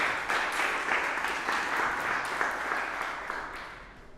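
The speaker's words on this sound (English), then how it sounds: "Applause, please." An audience at a small tech talk claps steadily, a soft, even patter of many hands that gradually tapers off.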